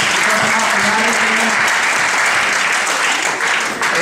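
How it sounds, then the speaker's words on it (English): Steady, loud applause from a church congregation fills the space, with a voice speaking briefly underneath at the start. "Let's applaud him."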